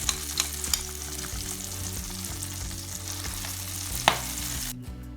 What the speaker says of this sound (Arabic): بعد ما خرجنا الطعميه من الزيت بعد ما اتقلت